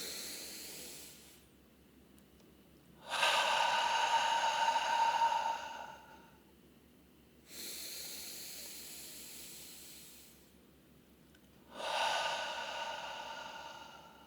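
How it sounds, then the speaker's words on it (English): Slow, deep breaths drawn in and let out through the nose, close and loud, in long hissing waves separated by quiet pauses during a calm guided breathing session. "Inhale through the nose."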